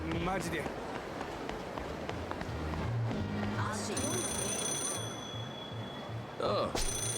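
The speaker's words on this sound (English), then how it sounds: "is that a phone ringing?" In the video game Yakuza 0, a payphone rings with a bright, steady bell tone midway through, set among in-game background sounds and effects.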